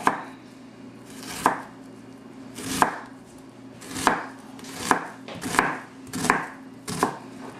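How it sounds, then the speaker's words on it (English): A kitchen knife slices through an onion on a cutting board, making about eight crisp, fairly evenly spaced chops with quiet pauses between them and no voices. "you can cut your onion right down the middle, slice it"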